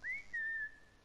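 A whistle in a Fortnite hide-and-seek match: a single clear tone that rises briefly, breaks, then holds steady before fading, heard close and alone.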